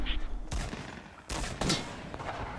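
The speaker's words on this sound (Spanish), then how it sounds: "Oh, escuché un disparo cerca de mí." Several nearby gunshots ring out in the Fortnite video game, sharp separate bangs spread irregularly over a couple of seconds above a faint game background.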